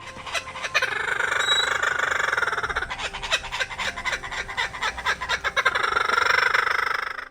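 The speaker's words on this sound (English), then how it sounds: "The name kookaburra comes from their call, which sounds like a laugh" A laughing kookaburra gives a loud, rolling laughing call, a long run of rapid cackling notes that rise and fall without pause.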